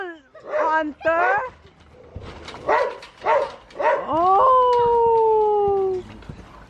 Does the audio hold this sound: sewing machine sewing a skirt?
no